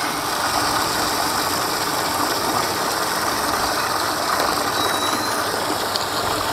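A submersible water pump starts automatically and runs with a steady, dense mechanical whir and hum, continuous and fairly loud throughout, with no voices over it.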